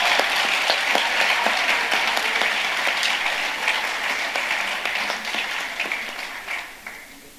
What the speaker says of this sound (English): That was a riotous applause